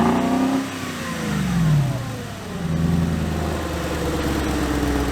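A 2004 VW Touareg engine with vacuum exhaust cutout valves, revving up and settling back toward idle in a loud, rumbling exhaust note with a couple of rising and falling swells, heard alone.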